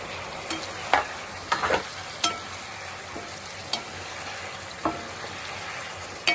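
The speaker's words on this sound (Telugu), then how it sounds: "మంచూరియా బాల్స్ వేసుకొని కలుపుకుందాం." Fried veg manchurian balls being mixed into sauce in a pan, with a faint sizzle underneath and intermittent sharp scrapes and clacks of a spoon against the pan.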